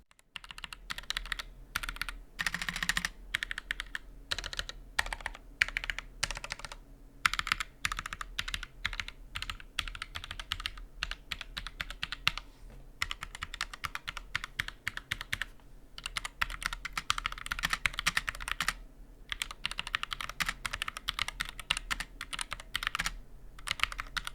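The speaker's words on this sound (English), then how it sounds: "the keyboard produces some of the most satisfying sounds when typing or playing" Rapid clacking of a mechanical keyboard being typed on, dense bursts of keystrokes with brief pauses, close and alone.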